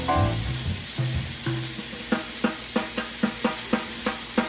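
Onions and garlic go into a hot pan preheated to 450°F, giving a soft sizzle under low clatter, then a run of about nine regular, evenly spaced knocks or taps of a utensil against the cookware.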